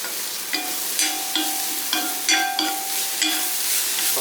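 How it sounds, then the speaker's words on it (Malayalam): Chopped chilies dropped into hot oil while roasting for an anchovy curry sizzle steadily, with a rhythmic series of sharp metallic stirring scrapes and clinks against the pan, close and fairly loud. "നമ്മുടെ മുളകെല്ലാം ഇതിലേക്ക് അങ്ങ് മുറിച്ചിട്ട് കൊടുക്കാം"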